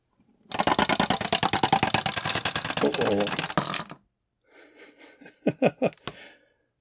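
A wind-up clockwork bowler from a 1970s mechanical handheld bowling game is cranked with a fast, loud, rattling ratchet for about three seconds, then a voice speaks briefly.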